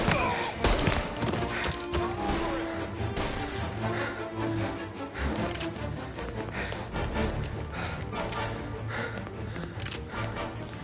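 Gunfire crackles through a 1930s mafia shootout in a video game, with dense bursts of shots and thuds amid busy game sound. A single loud burst is followed by scattered shots.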